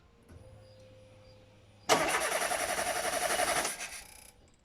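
A car engine cranks with a pulsing, rhythmic starter whir for about two seconds during a battery voltage drop test, then catches and settles; close and loud against a quiet background.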